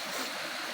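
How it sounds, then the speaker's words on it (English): Water flows and crashes against rocks in a steady, dense outdoor rush, a short continuous burst of splashing with no voices. "Got water smashing off the rocks as it's flowing."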